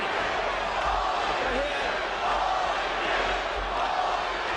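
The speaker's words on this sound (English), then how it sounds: "The crowd trying to urge Holyfield on." A boxing crowd at a 1997 heavyweight title fight between Evander Holyfield and Michael Moorer roars steadily to urge a fighter on, a loud, dense wash of cheering that holds throughout.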